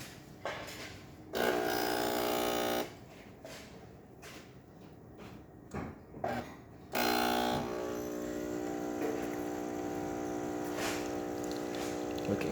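A serviced DeLonghi Magnifica espresso machine pulls a test shot, its pump droning in loud bursts with short gaps of hiss and clatter between, then settling into a long steady hum as the shot runs.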